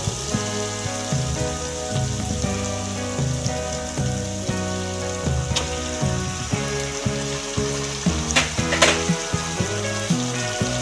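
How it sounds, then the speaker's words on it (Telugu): Ginger-garlic paste and turmeric sizzle in a pan while being stirred for a prawn curry. A crackling fry with occasional spoon clicks sits beneath continuous background music. "ఇప్పుడు అల్లం చిల్లిపాయ పేస్ట్ వేగింది కదా తర్వాత పసుపు వేసుకుందాం కొద్దిగా సరిపడంగా వేసి కలిపి కలిపిస్తున్నాం"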